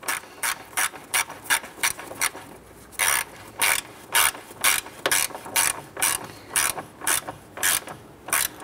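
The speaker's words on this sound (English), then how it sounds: "let's go ahead and install our 2 shroud bolts." A ratchet tightens the two fan shroud bolts on a 1993-1997 Ford Ranger during a radiator replacement, giving loud, close bursts of rapid clicks in steady back-and-forth strokes with brief gaps, and no voices.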